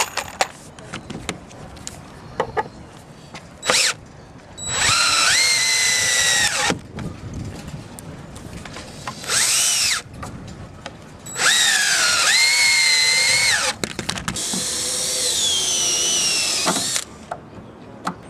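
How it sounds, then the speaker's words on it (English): A power drill drives 3-inch deck screws into the wood of a raft frame in several loud, whining bursts that rise in pitch, with quieter clunks and handling of lumber between them. "So we're going to use 3-inch deck screws, and we're going to put 2 screws in the end on each of these pieces"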